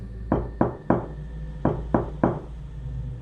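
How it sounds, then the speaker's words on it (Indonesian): Soft knocking on a front door: two groups of three knocks, evenly paced, close and distinct with brief pauses between the sets. "Suara ketukan pelan terdengar jelas dari arah pintu depan."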